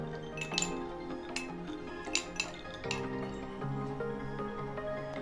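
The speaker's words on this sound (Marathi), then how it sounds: "आईस क्यूब टाकून घेऊया" Ice cubes drop into a glass for a virgin mojito, giving several bright, close clinks in quick succession, followed by fainter rattling of ice settling.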